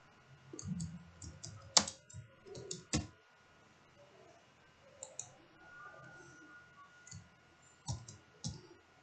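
Someone types HTML code on a computer keyboard, producing irregular quiet clusters of clicking keystrokes with sharper single taps, close and alone in a faintly humming room.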